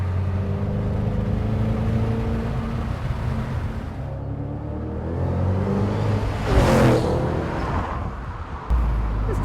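A 2013 Ford Mustang Shelby GT500 cruises at about 60 mph at roughly 1,200 RPM. A steady, low, muffled engine drone and road rumble run continuously inside the cabin, with a brief louder surge near the end and no talking.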